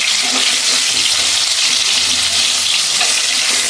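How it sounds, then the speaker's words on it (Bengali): Potatoes fry in hot mustard oil, a loud, continuous close-up sizzle that stays even from start to finish with no voices. "তেল গরম হয়ে গেছে, প্রথমে আলুগুলো ভেজে নেব"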